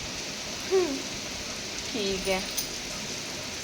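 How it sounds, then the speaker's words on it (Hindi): Heavy rain falls outside an open window, making a steady, even hiss throughout, with a brief voice speaking faintly over it. "ऐसी बारिश आ रही है, और थोड़ी देर में तू रोज निकाल देगा। फिर ये ऐसी बारिश होती है यहाँ पे।"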